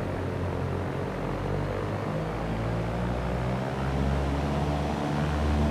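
A propeller aircraft rolls down the runway for takeoff in the X-Plane flight simulator, with a loud, steady engine drone and low rumble that keeps building, heard alone.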